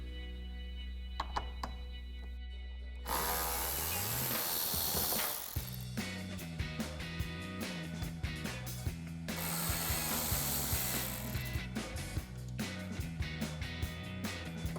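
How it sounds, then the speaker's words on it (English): Ratchet wrench loosening 10mm headlight bolts on a 2009-2018 RAM 1500 pickup, rapid clicking pawl bursts repeated in several runs, close and loud, with metallic handling noises in between. "Now we'll remove these 2 10mm bolts here at the bottom and one at the top of our headlight."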